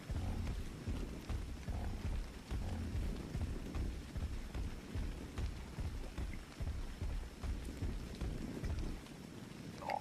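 Steady rain falls in the video game Ark, a continuous close patter with soft repeated low thumps throughout and no talk.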